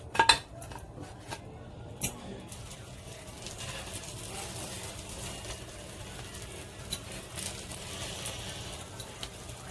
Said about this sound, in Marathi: हे बघा, प्लेटमध्ये टाकते।